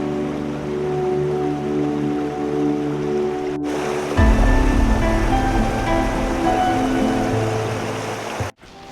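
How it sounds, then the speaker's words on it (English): A waterfall in Olympic National Park gives a steady rushing roar that swells louder partway through and continues without talk. "I just passed my first waterfall"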